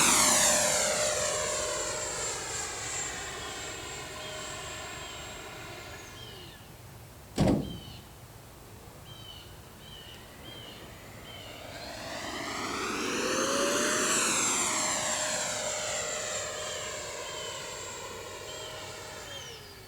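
A Freewing F9F Panther model jet with a 70mm electric ducted fan makes two flybys, its high whine rising and falling as it passes, with a sharp click between the passes.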